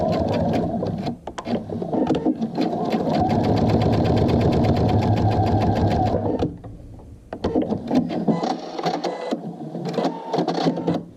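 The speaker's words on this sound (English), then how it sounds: "now I'm just going to do the top stitching on this." A sewing machine top-stitches a fabric bag in blue thread, a fast close whirring hum of needle strokes running steadily for several seconds, then shorter bursts of stitching with pauses between them.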